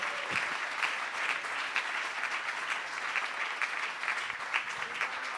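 Steady congregation applause in a church, even and continuous clapping heard from some distance without speech, holding at a constant level throughout.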